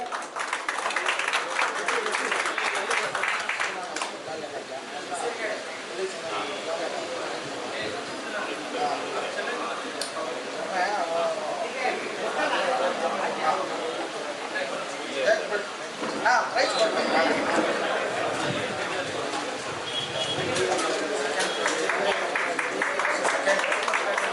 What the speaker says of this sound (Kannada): ಚಪ್ಪಾಳೆ ಹೊಡೆದು ಸ್ನೇಹಿತರೆ